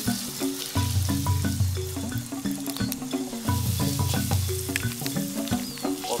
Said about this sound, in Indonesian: lanjut goreng terasinya